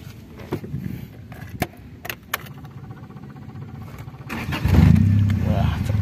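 A 1988 Honda Civic LX engine cranks and starts near the end, rising into a loud steady idle after someone talks over clicks and key jangles.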